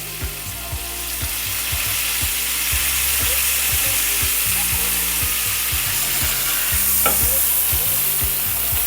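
A thick steak sizzles loudly and steadily in a hot pan as it keeps getting moved around, with a continuous frying hiss broken by frequent clicking and scraping knocks, no voices.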